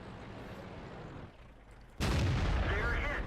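Tank cannon fire in the online game World of Tanks: after a quieter stretch of battle noise, a sudden loud boom bursts in and rolls on as a heavy rumbling blast to the end, with a voice talking faintly.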